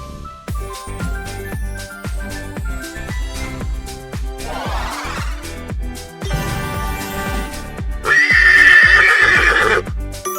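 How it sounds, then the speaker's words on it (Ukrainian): A horse whinnies loudly with a shrill, shaky neigh, accompanied by steady clip-clopping hooves and a tinkling jingle throughout. "Це кінь."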